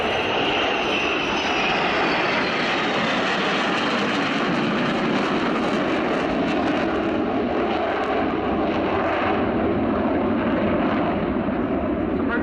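A delta-canard fighter jet flies past at an airshow, a loud continuous engine roar that swells and shifts in pitch as it passes, heard at a distance from the crowd.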